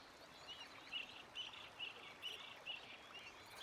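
Birds sing outdoors, faint and distant: a string of short, repeated high chirps spaced about every half second over quiet background hiss.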